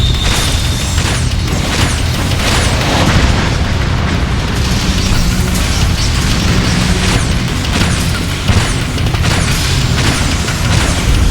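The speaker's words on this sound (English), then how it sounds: "avoid this thing's attacks like its buzzsaw, like it's doing right now" Boss buzzsaw attack in the video game Ninja Gaiden 3 Razor's Edge: dense, loud crashing and booming impacts pile on top of each other with metallic grinding, a constant barrage with no voices.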